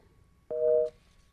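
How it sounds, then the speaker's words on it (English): A telephone left off the hook gives a single steady electronic busy-signal beep, lasting about half a second against a quiet background hum. "somebody's phone's off the hook."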